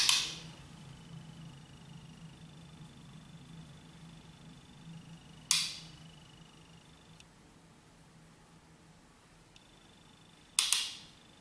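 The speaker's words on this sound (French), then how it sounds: "Le petit bruit que vous entendez, c'est quand je tapote mon pinceau" Three sharp, brief taps of a makeup brush spaced several seconds apart, close by, over a quiet steady background hum.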